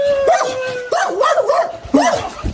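A chained dog in a Chinese village barks and howls in three rising, wailing bursts, loud and close, with short yips between.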